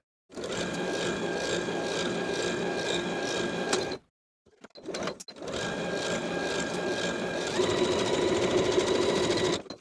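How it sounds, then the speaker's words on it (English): A sewing machine stitching quarter-inch seams on a knit sash belt, running in steady close bursts of rapid needle clatter, with a short pause near the middle before it starts again and runs a little louder toward the end. "Sew the short edges and the long edge with a 1/4 inch seam allowance."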